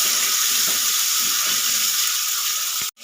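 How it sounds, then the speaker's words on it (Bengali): Spice paste sizzles in a pan with a small splash of water added for a Bengali fish curry, a steady bright hiss that ends in a sudden clatter. "একটু অল্প পরিমাণে জল দিয়ে আমি মশলাটা ভালো করে"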